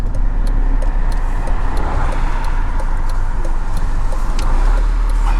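Steady road and engine rumble inside a car moving through the Peak District in Derbyshire, with faint repeated ticking rattles from the cabin running throughout.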